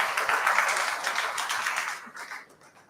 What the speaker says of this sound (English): And a round of applause for them